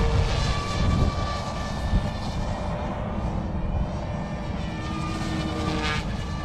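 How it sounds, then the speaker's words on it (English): A full carbon fiber mini RC helicopter flies fast outdoors, giving a steady, moderately loud whining rotor and motor drone with slight rises and falls as it passes. "Now this helicopter can do 3D, but it is made to go fast."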